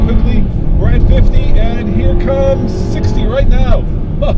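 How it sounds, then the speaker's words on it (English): A turbocharged 2013 Acura RDX accelerates hard from 0 to 60 mph, its engine droning loud and steady while someone speaks over it throughout. "0 to 60 in the previous RDX"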